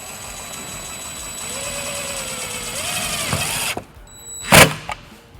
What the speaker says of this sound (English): We're going to take it, use our provided self-tapping screw.